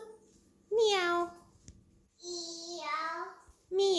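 A young child imitates a cat's meow, two drawn-out meows in a small voice, close and clear in a quiet room, with a brief adult voice at the very end.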